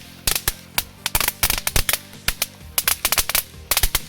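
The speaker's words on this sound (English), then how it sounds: "here are some magic whips. These are in fact some pretty cool fireworks." Magic whip fireworks crackle in a rapid, irregular string of sharp loud pops, some bunched into quick bursts, heard close and with nothing else over them.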